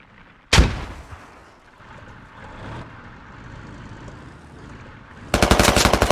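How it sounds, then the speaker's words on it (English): Gunfire and a frag grenade blast in the military shooter game SquadOps: a sharp loud explosion early, a stretch of distant battle rumble, then a rapid close burst of automatic fire at the end. "Really gonna throw a frag grenade at it."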